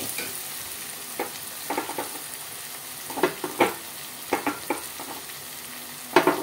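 Tomato puree masala sizzles in separated oil in a pan for a dhaba-style egg masala curry, with a steady crackling fry broken by occasional scraping stirs.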